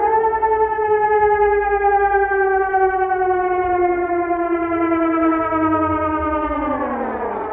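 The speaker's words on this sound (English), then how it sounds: "suddenly these sirens went off, and they're really loud" A civil defense warning siren in Copenhagen, Denmark, gives a loud, sustained wail that holds one pitch, then slowly sinks toward the end. It sounds alone, with no talk over it.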